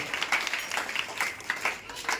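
Audience applause welcoming a guest, a CRC coordinator, at a cluster-level school maths and science exhibition and arts festival, heard as a steady crowd of clapping hands with brief swells throughout.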